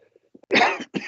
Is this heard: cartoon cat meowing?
no